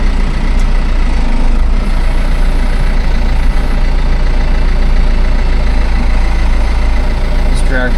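Diesel tractor engine running steadily close by, a continuous low rumble with a constant idling drone throughout and faint higher rattles on top, no clear voices over it.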